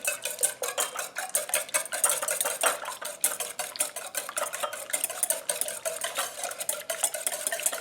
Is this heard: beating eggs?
yes